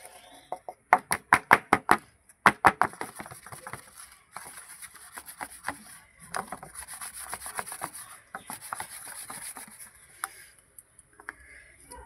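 Mango pulp for aamsotto is stirred and spread around a plate, making clattering scrapes and rubbing taps, a quick rhythmic burst early on followed by slower, softer scraping strokes.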